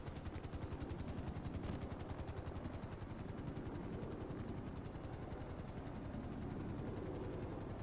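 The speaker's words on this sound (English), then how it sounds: "the guy's about to hop in a helicopter on the edge of a building" Helicopter rotor chop in a video game roleplay scene, a fast steady thudding beat that holds at a constant level throughout, fairly close, with no talk over it.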